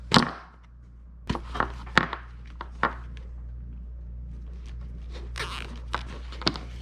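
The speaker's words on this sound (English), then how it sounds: "I'm going to grab a couple of zip ties" Plastic zip ties being tightened on a calf weaner prop: a handful of short, sharp ratcheting clicks spaced irregularly, close and fairly quiet, with no talking.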